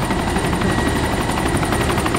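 A helicopter's rotor in the video game DayZ chops rapidly and steadily, loud and close, with a continuous engine drone underneath.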